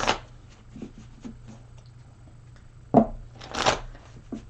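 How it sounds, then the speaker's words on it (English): A deck of cards is shuffled up close, with soft riffling and sharp flutters and snaps in bursts, quiet between them. "let me shuffle these a few more times"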